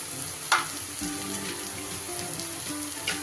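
Mashed potato fries with spices in a pan over low heat, giving a soft, continuous sizzle with a few sharp ticks and scrapes of stirring.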